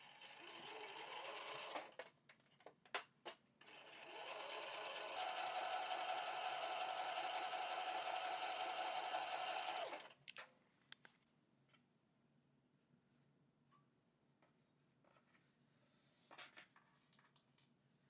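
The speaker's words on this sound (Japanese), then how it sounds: "これを7ミリの縫い代で縫います" A sewing machine stitches two layers of fabric, one a narrow strip, with a 7 mm seam allowance while making a large pouch, running in short bursts and then one steady five-second run, with light handling clicks before and after.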